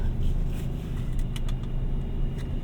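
A 2026 Ram 1500 Laramie pickup with a V8 pulls away, its engine a steady, close rumble with a slight rise in revs and no voices over it.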